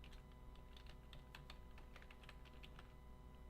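Quiet clicking of keys on a computer keyboard as a figure title is entered, a steady run of light taps with no voices.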